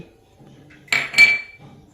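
Two quick, hard knocks close together, a pestle pounding sliced garlic in a mortar with a slight clatter, set against quiet background sound.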